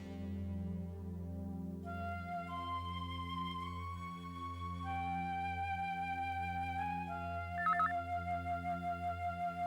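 A phone rings with an electronic melodic tone and a warbling trill, over a sustained low musical drone.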